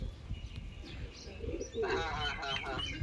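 A pet pigeon coos nearby in a home loft, soft low throaty calls rising into a clearer coo in the last second, with faint background chatter.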